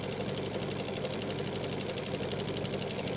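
A sewing machine fitted with a Deluxe 3 Sole walking foot stitches fabric in a steady, even mechanical whir that runs unbroken throughout, close and moderately loud with no talking.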